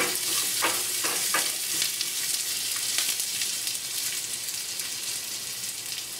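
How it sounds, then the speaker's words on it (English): Green chilies and ginger fry in a pan with a dense, steady sizzle, a few stirring scrapes early on, then unbroken close frying to the end, with no voices. "green chilies, ginger, just give it a mix. Allow it to cook for about a minute or so"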